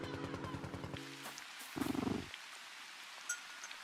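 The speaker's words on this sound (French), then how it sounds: "Il ronronne en plus." A cartoon cat wearing a small hat purrs in an indie video game, a short, soft rumbling burst of about half a second that stands alone amid faint background sound.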